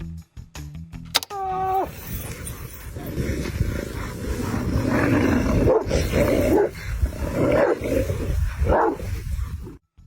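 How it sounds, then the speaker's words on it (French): A sheepdog fighting a pack of about a dozen wolves: snarling, growling animals in a loud scuffle, barks and roars overlapping continuously for several seconds after a brief whine. "Un seul chien de berger contre une douzaine de loups."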